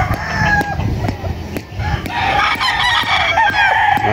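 A poultry yard crowded with chickens, several roosters crowing and hens clucking almost continuously, with sharp clattering knocks and muffled voices in the background.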